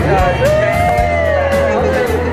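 Lively hubbub of a busy craft trade show floor at CHA, with overlapping voices, crowd babble and a steady loud murmur filling the space throughout.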